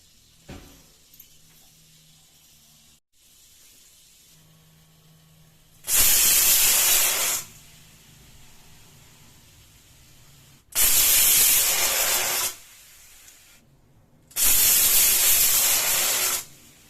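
Three loud bursts of hissing steam from a pressure cooker whistle while cooking chana dal, each lasting a second or two, separated by quieter stretches with faint background noise.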